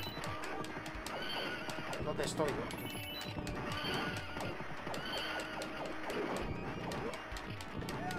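Horse whinnying and clip-clopping amid crashing combat in the arcade game Knights of the Round, loud and busy, with someone speaking over the din.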